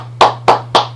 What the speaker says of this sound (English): Can I get somebody to clap for me